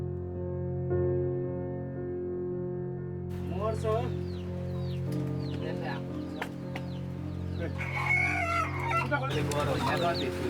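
A village rooster crows several times close by with some clucking, over a steady low hum, while people talk nearby.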